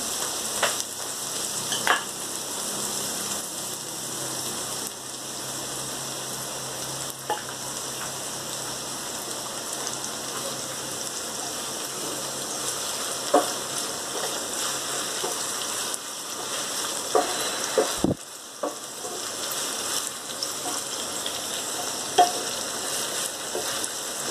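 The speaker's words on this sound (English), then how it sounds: "Fry them till they are nice and golden in color and crisp." Okra (ladyfingers) frying in oil, a steady dense crackling sizzle like rain that holds for a long stretch, with occasional faint clinks from stirring and no talk.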